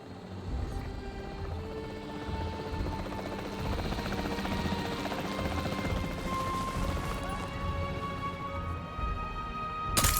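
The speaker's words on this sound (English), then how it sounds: "The priority needs to be tranquilizing it with the capture team chopper." Capture team helicopter in the video game Jurassic World Evolution 3, its rotor chop droning steadily and loud for the whole stretch, with game music and faint effects layered underneath.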